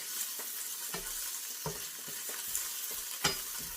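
Ginger paste, about a teaspoon, stirred and broken up in a hot pan while making a chicken meatball curry sauce: a steady sizzle with repeated scraping strokes of the utensil, close and fairly loud, with no talking.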